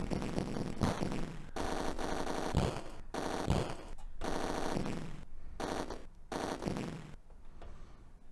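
Rapid automatic gunfire from the Atari ST rail shooter Roller Coaster Rumbler blasts targets in repeated bursts separated by brief gaps, loud synthetic game shooting with no talking.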